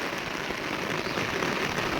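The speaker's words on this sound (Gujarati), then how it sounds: "ગાજી વરસાદ ગાજીર્યો છે મિત્રો" Heavy rain falls steadily on a farm field in Banaskantha, a dense, even hiss of drops that holds constant throughout without any pause.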